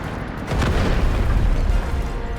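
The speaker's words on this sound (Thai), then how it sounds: "มาโดนระเบิดรถถัง" A tank explodes in the Delta Force shooter game, a loud close boom followed by a sustained rumbling roar that fills the moment, with no talk over it.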